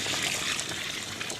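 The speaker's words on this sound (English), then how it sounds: "So we have to add some cold stock just to cool it down a little bit." Cold pork stock poured into a hot blood soup, a steady soft trickling and splashing of liquid that runs continuously without pause, fairly close and moderately loud, with no voices.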